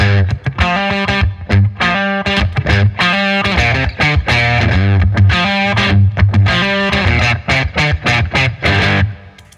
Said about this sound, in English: See what happens when I add the compressor to it.